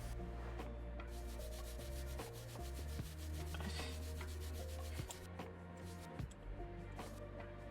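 Close, quiet rubbing and scrubbing on a small electronic device part during cleaning, in repeated back-and-forth strokes with a few light knocks, no speech.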